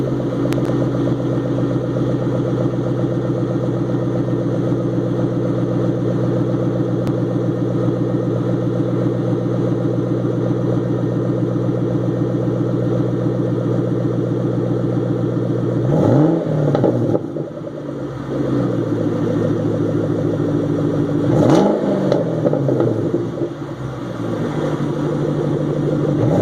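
A Shelby GT500 with its supercharged 5.8 liter engine idles steadily and closely, then gives two short blips of the throttle that rise and fall, with a whir on top of the exhaust.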